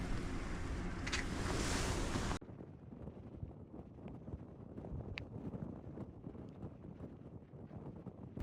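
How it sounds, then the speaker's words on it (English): Strong wind of about 20 miles per hour blows on an ice fishing trip. A loud roaring gust buffets the microphone at first, then cuts to a lower, steady rushing wind with faint scattered rattles. "we've had like 20-mile-per-hour winds basically all day long"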